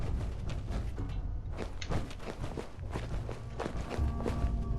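Footsteps in the video game Fallout 4 land as loud, close, fairly quick steps in a steady rhythm, with light background game noise underneath.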